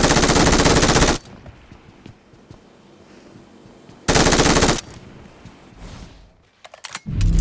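Automatic gunfire from the mobile shooter game PUBG Mobile comes in loud, dense sustained bursts, one at the start and another midway, with quieter game ambience between them and a final short burst at the end.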